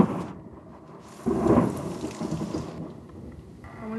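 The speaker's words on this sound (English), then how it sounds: "Hear the rain." Rain falling during a warm July thunderstorm in Lake Elsinore, a steady broadband wash of drops that swells louder for a moment in the middle, with thunder rumbling low underneath and no talking.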